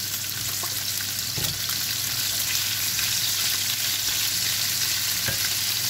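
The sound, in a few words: sautéing in oil in a pan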